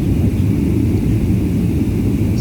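Steady, loud airliner cabin roar from an airplane descending before landing, a continuous low rumble with a faint hiss above it and no voices.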